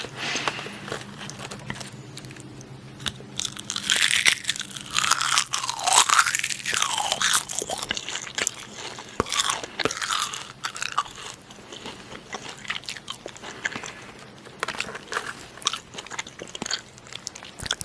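Close, crisp crunching of a snack being bitten and chewed, in an intimate ASMR setting, with repeated bites and steady chewing and no talk.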